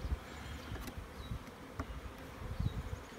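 Honey bees buzzing steadily around an open hive during a day-21 brood frame inspection on Cape Cod, a faint continuous drone with individual bees zipping past the microphone now and then.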